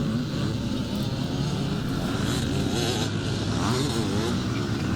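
Kawasaki KX250 two-stroke dirt bike from 1990, racing on a motocross track, a loud steady engine drone with rising and falling revs that continues for the whole stretch.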